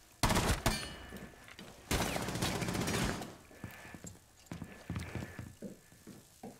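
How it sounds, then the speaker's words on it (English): Gunfire in the video game Rainbow Six Siege, shot from a window: loud, rapid bursts early on, then scattered quieter shots and clattering, with no talk over it. "he's shooting from the window"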